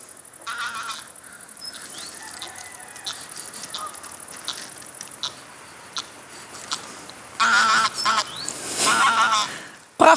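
A goose honking outdoors in a rural farm landscape with a windmill, loud bursts of honking calls repeated toward the end over soft background noise.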